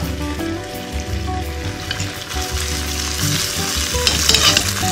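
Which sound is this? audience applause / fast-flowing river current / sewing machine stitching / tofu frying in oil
tofu frying in oil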